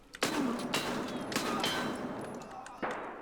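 Gunfire in the first-person shooter SPT Tarkov: a few sharp, loud shots with ringing tails, spaced irregularly over a few seconds, with no talk over them.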